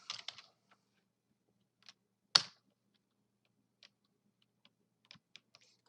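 Typing a command on a computer keyboard: a few sparse key clicks and one sharper tap spaced out over quiet seconds, close and faint, with no talk.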